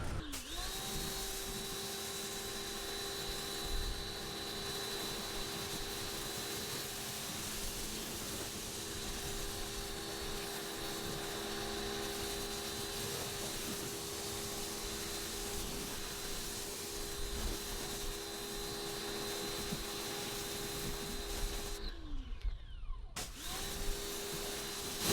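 Pressure-washer spray rinsing iron remover off black car paint, a steady loud hiss with a motor hum running continuously, cutting off briefly near the end before resuming.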